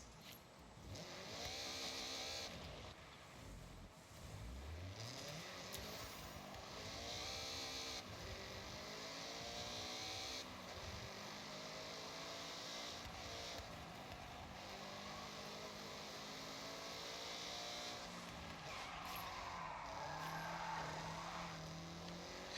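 A video-game car skids under the e-brake, with quiet, distant engine revs rising and falling through repeated slides and a hiss of tyre noise.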